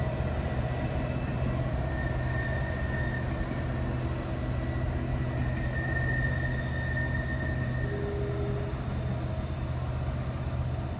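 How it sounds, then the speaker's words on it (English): Norfolk Southern helper locomotives labor up a grade pushing a freight train on the Pittsburgh Line in autumn, a steady loud diesel drone with sustained engine hum and faint tonal whine, continuous throughout. "Can still hear 23Z's helpers laboring up that grade"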